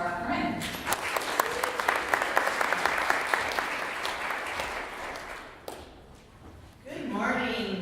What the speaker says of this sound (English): So please join me with a warm applause for Corinne.